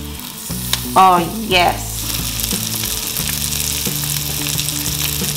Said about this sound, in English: Now we're going to place the salmon on here, skin down, okay? You hear that sizzle?